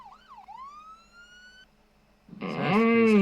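A police car siren in the video game Flashing Lights wails and rises in pitch, then gives way to a loud, dense burst of siren and engine noise that swells toward the end.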